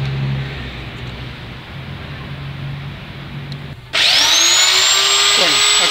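An electric drill suddenly spins up and drives the speedometer cable of a Ford Escort, Orion or VW Pointer with a loud, steady whirring whine that follows quieter background noise.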